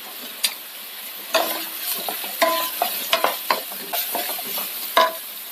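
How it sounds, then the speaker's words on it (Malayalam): Onions and curry leaves sizzle in hot oil, a steady crackling fry broken by repeated sharp scrapes and clinks of stirring, close and without talk. "ചൂടായ എണ്ണയിലേക്ക് സവാള ഇട്ട് കൊടുക്കാം"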